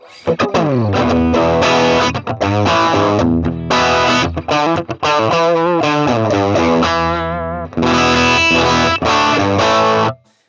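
Electric guitar played through a Swart Atomic Space Tone amp into a 57-miked cab, loud distorted chords and sustained notes with a chorus-like shimmer, ringing for about ten seconds before cutting off.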